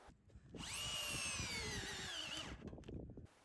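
A power drill drives a screw into a wooden ladder treestand, a single sustained whine of about two seconds that rises and holds steady before winding down, with handling clatter before and after.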